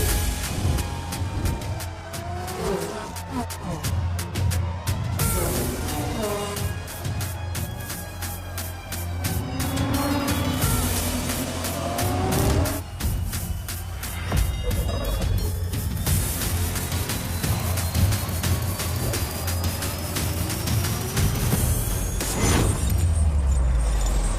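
Cars racing in a film scene: a continuous loud engine roar with rising and falling revs, whooshing passes and a dense, busy mix running the whole time.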